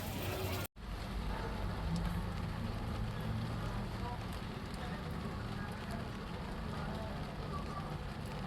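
Rain falls outside a car, heard from inside the cabin as a soft, steady hiss after a brief cut at the start, faint and continuous with no talk.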